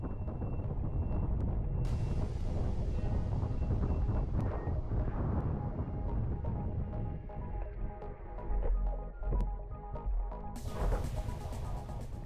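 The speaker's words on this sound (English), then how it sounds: "The conditions are just perfect and the wind is still increasing" Strong wind roars and buffets the microphone during speedfoiling on the water, a loud, unbroken rush with gusty swells and some sharper bursts.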